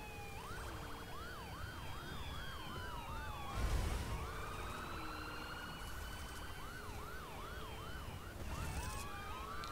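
A police car siren wails continuously in The Crew racing game, its rising and falling tone sweeping steadily over a low engine rumble, with a brief noisy burst midway.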